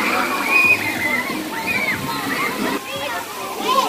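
Water rushes and sloshes steadily at a neighborhood water park waterslide, a loud, close, continuous splashing wash with children's voices and people talking mixed in.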